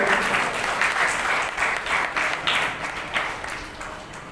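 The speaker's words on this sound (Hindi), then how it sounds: "साथियों, जोरदार तालियां बजाएं।" Loud, sustained applause from a large audience at a community awards ceremony in New Delhi, a dense wash of clapping that stays strong throughout with no talk over it.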